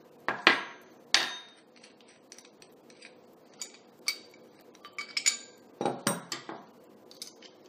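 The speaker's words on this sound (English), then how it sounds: "this is going to flare the tube open" A flaring tool clamped on a metal tube gives a series of sharp metallic clicks and taps, two loud ones at the start, then lighter scattered ticks and a cluster near the end.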